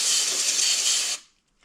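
A steady, loud hiss of pressurized spray rinsing cleaned parts from a 1969 Suzuki TS250 motorcycle runs for about a second, then cuts off abruptly, leaving near silence.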